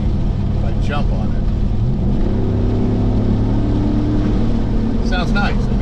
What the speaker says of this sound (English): I don't know if you can hear the vehicle now. It's a tad bit louder.